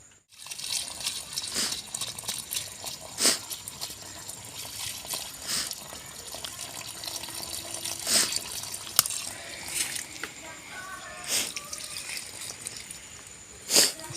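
Water trickles and splashes steadily for a while around a newly planted sapling, with a few louder gushes breaking through a constant wet hiss; no voices.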